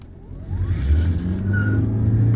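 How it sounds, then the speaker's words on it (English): Toyota Prius accelerating hard from a stop and burning rubber, a rising motor and tire roar that swells and holds steady, loud and close with a brief squeal. "Yes, this Prius does burn rubber."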